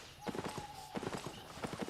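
Donkey mount hooves clop in the video game Albion Online, a steady, quick rhythm of close, crisp hoofbeats. A faint tonal game sound runs beneath them.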